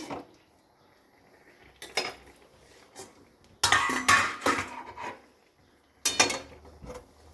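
Cooked jute leaves are tipped from a pan into a bowl, with sporadic metallic scrapes and clanks of a spoon against cookware, in short bursts separated by quiet.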